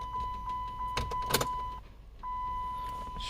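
Ignition on a 2007 Chrysler Sebring 2.4L with a fresh transmission solenoid pack is cycled, bringing a steady electronic chime tone with a couple of brief clicks and a small thump near the middle, all in a quiet car interior.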